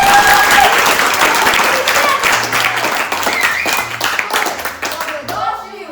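Audience applause fills a cabaret hall, loud, dense clapping sustained for several seconds before thinning out near the end, with voices mixed into the crowd noise.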